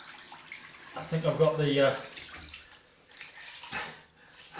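Cold water runs from a tap in a sink or basin during a head shave, a splashing flow beneath a voice as he speaks briefly, then fading to softer trickles.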